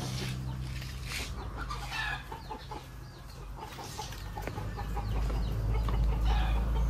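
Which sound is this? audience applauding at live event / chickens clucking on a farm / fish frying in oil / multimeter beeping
chickens clucking on a farm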